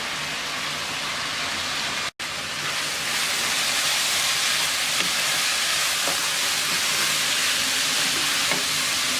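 Small red potatoes frying in a pan with turmeric and sliced green chilies, a steady loud sizzle with occasional soft scrapes of stirring, close and continuous.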